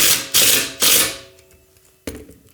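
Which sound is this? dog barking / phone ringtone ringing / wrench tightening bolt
wrench tightening bolt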